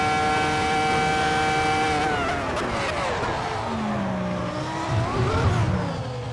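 Lexus LFA V10 engine breathing through its Yamaha-tuned exhaust, a loud, continuous high-pitched wail that holds steady and then sweeps downward in pitch as the revs fall, with a rougher rumble near the end.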